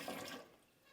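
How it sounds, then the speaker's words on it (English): Water pours into a cooking pot in a brief gushing splash that quickly tapers off, close and moderately quiet, with no speech. "We're going to put a little more water in."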